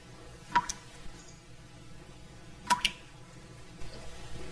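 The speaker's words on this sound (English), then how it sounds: "that's the sound of water dripping from a faucet" Water dripping from a faucet: a few soft, sharp drops land at spaced intervals, two of them close together, against a quiet background.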